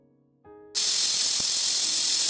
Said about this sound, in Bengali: এইদিকে প্রেসার কুকারে 2টো সিটি দিয়ে সেদ্ধ করে নিলাম।